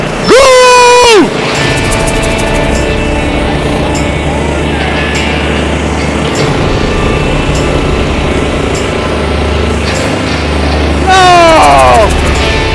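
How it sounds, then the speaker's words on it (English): Stand-on skid steers race in reverse in a drag race, their engines roaring loud and close. A sweeping rise-and-fall tone is heard at the start and again near the end. "Reverse skid steer competition drag race."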